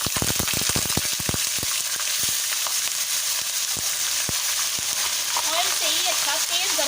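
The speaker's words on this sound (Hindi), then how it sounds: "अच्छा तेज गर्म होना चाहिए, क्योंकि हमने फ्राई करना है चिकन को, तो ये एकदम से फ्राई हो जाएगा।" Chicken pieces hit hot oil in a pan for a Degi-style chicken korma, giving a steady loud sizzle with a burst of crackling pops at the start and bubbling throughout.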